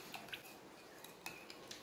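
A spoon stirs salt and sugar to dissolve them, making faint, irregular clinks and taps of metal against a dish with soft scraping between them, quiet and close.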